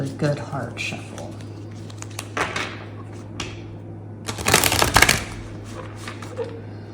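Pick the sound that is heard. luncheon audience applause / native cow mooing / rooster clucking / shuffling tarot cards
shuffling tarot cards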